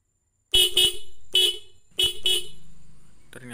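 Horn of a Honda GL Tiger motorcycle being tested, giving four or five short loud honks in an irregular rhythm, close by with no talk over them.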